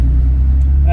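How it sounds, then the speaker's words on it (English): A Porsche 911 fitted with an aftermarket exhaust idles with a steady, deep, loud engine rumble, held close and constant through the second. "Exhaust just makes it sound even better."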